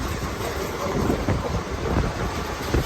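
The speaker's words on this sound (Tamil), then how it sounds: "அத்தாடி ட்ரெயின் பறக்குதானே." Steady loud rushing and rattling of a fast-moving train between Chennai and Chengannur, with wind buffeting the microphone throughout.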